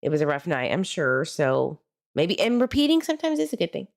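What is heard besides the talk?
No everyday noise stands out behind the speech.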